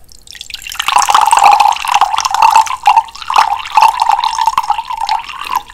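Zero-sugar Gatorade Glacier Freeze poured from a freshly opened bottle, a close, loud, continuous gurgling and splashing stream with a few brief breaks, with no voices.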